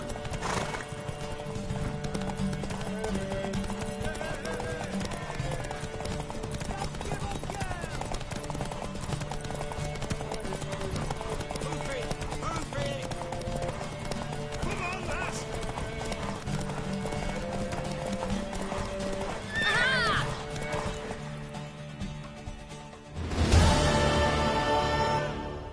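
Horse hooves clip-clopping and a horse neighing in The Witcher 3, the steady hoofbeats running under game music and voices, with a loud whinny breaking through near the end.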